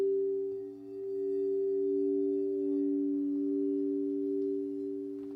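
Two singing bowls ring together in a sustained, pure, humming tone that swells and wavers gently, with no talking.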